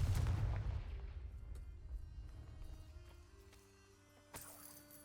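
A fiery Confringo spell blast in the video game Hogwarts Legacy opens with a deep booming impact that rumbles and fades over several seconds, followed by a smaller burst near the end.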